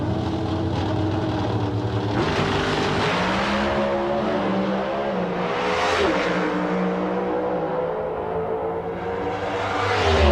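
Drag racing car making a run at the O'Reilly Fall Nationals in 1999, a loud sustained engine roar with rising and falling pitch as it accelerates down the strip, heard alone without talk.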